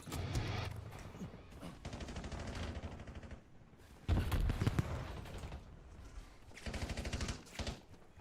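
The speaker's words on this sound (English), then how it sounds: "Hear gunshots all around me." Gunfire in the video game Call of Duty Black Ops 7: bursts of rapid automatic shots crackling around, some near and loud, others farther off, in several volleys with short gaps.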